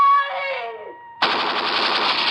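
Machine gun fire from prison gun towers, played as a 1950s radio drama effect, bursts in as a loud, dense rattle after a sustained tonal note fades out.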